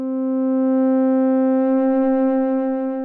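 A sustained tone from a Furthrrrr Generator FM synthesizer module holds steady, then begins to waver and go out of tune as the modulation index rises, loud and alone.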